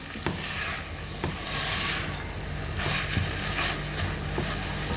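Garlic and ginger frying in a pan give a steady, moderate sizzle with faint stirring clicks and scrapes scattered throughout, heard close with no voices.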